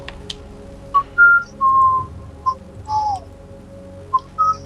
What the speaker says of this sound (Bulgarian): Тя подсвирква. Кой свири те?